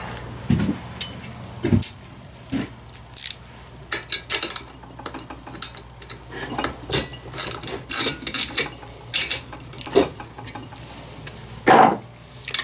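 Quarter-inch drive ratchet fitted with an 8 mm socket working fasteners on an old chainsaw during a teardown, giving irregular metallic clicks, clinks and short ratcheting bursts close by, with no talking.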